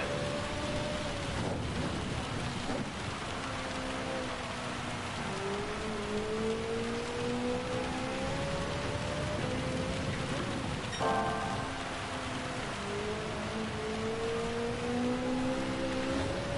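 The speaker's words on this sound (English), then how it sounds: "There we go, a bit more rain." Steady rain hisses through a racing game at the Red Bull Ring, with a car engine's rising and falling whine running underneath.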